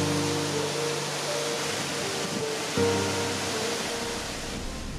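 Pissevache waterfall, 116 metres high, a steady dense roar of falling water heard from nearby, constant and broad with no voices.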